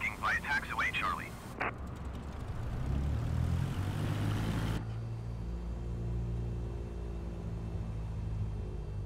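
A Cessna light aircraft's propeller engine drones steadily while taxiing, a low continuous hum that follows a brief burst of radio chatter and carries on alone.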